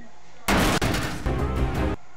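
Dense burst of rapid automatic gunfire in the Fortnite Operation: Sky Fire live event, loud and continuous for about a second and a half with a brief break, starting and stopping abruptly.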